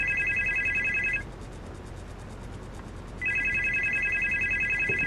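A video game telephone rings in two bursts of loud, evenly pulsing electronic trills, separated by a two-second pause, with faint room noise between them.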